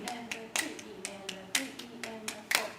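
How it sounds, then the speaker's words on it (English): Hands clap out a steady counted rhythm during a music lesson, sharp distinct claps spaced about half a second apart, with a voice speaking between them. "1, 2, clap and count."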